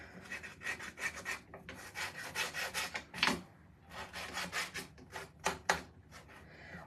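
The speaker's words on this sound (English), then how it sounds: "I am gonna sand a little bit on the edges to kind of make it look a little bit more distressed. And I'm using my Gator sander." A Gator sander distresses the edges of a wooden farmhouse craft piece, giving close, uneven bursts of dry rasping and rubbing in short strokes with brief pauses between passes.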